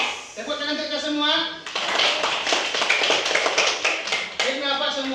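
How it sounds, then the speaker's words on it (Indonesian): Students in a classroom lesson clap their hands together in a burst of brisk, close clapping lasting a few seconds, framed by a sung or chanted voice before and after. "Tepuk tangan untuk kita semua."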